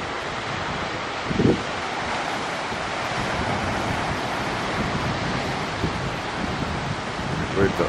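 Strong wind roars steadily against the microphone over crashing Mediterranean surf on the coast between Acre and Nahariya, Israel, with a brief bump of handling noise and faint voices.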